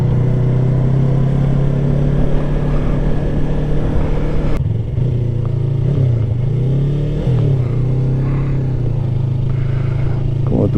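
A motorcycle in traffic downshifts and slows: the engine drones loudly and steadily, then the pitch drops and wavers as gears change and the bike brakes for a turn, with wind noise throughout.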